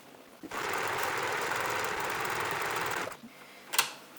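A sewing machine back-stitching over the side seam of a fabric pull-string pencil case runs in one steady, close mechanical whir for about two and a half seconds, then stops, followed by a brief handling clatter.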